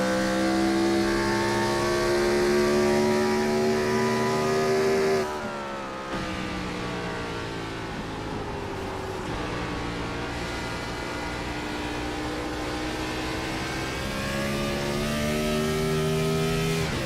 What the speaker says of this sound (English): Listen to that car sing as Jurgensen puts his foot back in it for all it's worth.